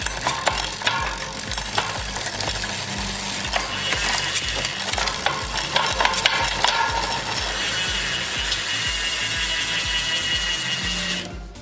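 Freehub ratchet of a new Zonda wheel on a Cannondale CAAD13 road bike with Di2 electronic shifting, a steady close rapid clicking buzz that runs for about eleven seconds, then cuts off sharply.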